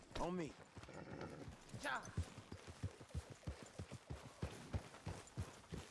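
Horse hooves clip-clop in steady, evenly spaced beats in the video game Red Dead Redemption 2, moderately close, with a voice speaking over the opening moments.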